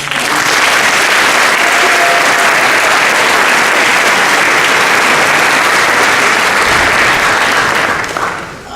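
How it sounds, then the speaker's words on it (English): Sustained, loud audience applause fills a hall during an alumni panel, steady dense clapping for about eight seconds before it tapers off at the end. "So, how about a round of applause for that?"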